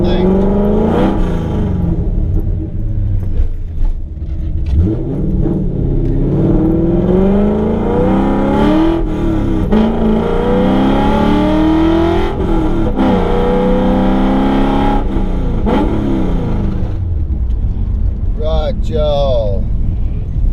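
A Coyote V8 engine in a Fox Body Ford Mustang revs and accelerates from inside the car, its deep rumble rising and falling in pitch through several pulls, loud and close.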